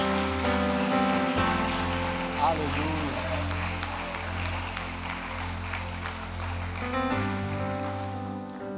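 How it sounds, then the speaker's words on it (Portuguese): A church congregation applauds to praise God during a Portuguese-language sermon: a dense, steady wash of clapping over sustained keyboard chords, with a voice calling out briefly partway through. "Você pode dar uma salva de palmas a Deus?"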